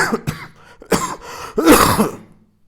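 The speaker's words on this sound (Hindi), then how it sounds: "सॉरी खांसी बहुत आ रही है।" A person nearby coughs and clears their throat a few times in quick succession, loud and close, before it fades to silence.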